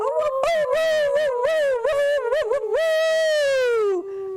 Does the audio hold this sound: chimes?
no